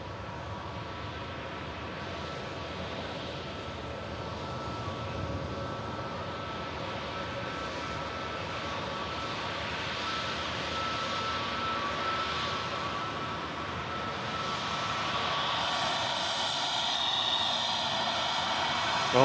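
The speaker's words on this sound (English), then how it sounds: "Turkish A321 just vacating in front" Turkish Airlines Airbus A321, just arrived from Istanbul, vacating the runway at Manchester Airport, giving off a steady, fairly distant jet engine roar that swells slightly toward the end, with no speech.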